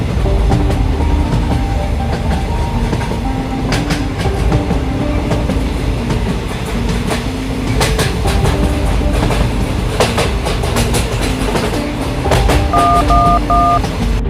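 A cartoon train runs with a steady, loud rumble and rhythmic clatter, backed by short beeping tones and intermittent clicks throughout.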